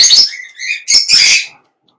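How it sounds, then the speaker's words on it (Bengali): A pet parrot at a bird seller's gives loud, close, shrill calls and chattering squawks in two bursts, then falls silent. "এই যে কথা বলতেছেন মিঠু মিঠু কথা বলো মিঠু।"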